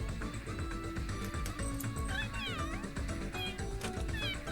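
A cat in a Sims 3 game meows several times in quick succession, with rising and falling cries over a dense, constant game background.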